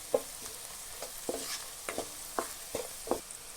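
Sliced onions cook with salt in a pan, with a soft, low sizzle under repeated scraping strokes of a spoon stirring at an unhurried, roughly regular pace. The sound is close and fairly quiet, with no voices.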